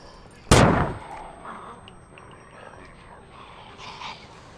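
A single loud, sharp gunshot from a firearm in the survival video game SCUM, fired at a zombie, cracks out early and decays into a rumbling tail under faint game ambience.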